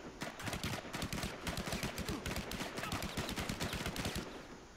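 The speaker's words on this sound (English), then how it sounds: "They're shooting from their own barriers." Gunfire in a battle royale squad match, a dense, continuous barrage of rapid automatic shots with overlapping bursts and cracks, loud and steady without pause.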